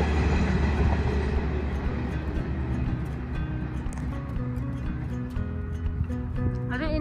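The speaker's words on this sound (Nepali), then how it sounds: "अरे इंडियन पैसिफिक ट्रेन" The Indian Pacific passenger train passes near an orange farm, a heavy steady rumble of rolling wagons with rhythmic clacking, loud and close, with a brief voice near the end.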